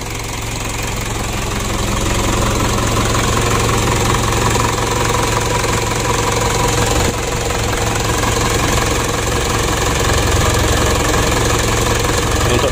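A vehicle engine idles steadily and loudly, a continuous rumble with a faint knocking texture throughout and no talk.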